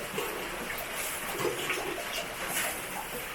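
Warm water poured into a cooking pot for beef stew in a village kitchen, a steady splashing pour that keeps going the whole time, moderately loud, with no speech.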